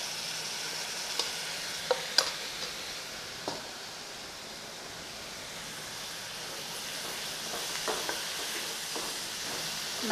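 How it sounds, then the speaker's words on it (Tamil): Finely chopped tomatoes sautéing in a pan for palak paneer, a quiet continuous sizzle with occasional stirring clicks and scrapes. "இப்போ நான் பொடியாக நறுக்கி வச்சுருக்க தக்காளியை இதில் சேர்த்துறேங்க."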